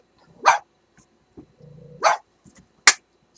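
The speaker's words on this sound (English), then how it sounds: "My dog says hi." A dog barks three sharp, loud, close barks spaced about a second apart, with a low growl rumbling between the second and third.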